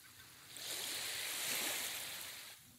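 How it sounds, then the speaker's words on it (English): A Pacific Ocean wave rolls in and washes over, swelling to a broad hiss of surf and then fading, moderately quiet with no voices. "You hear the waves crashing."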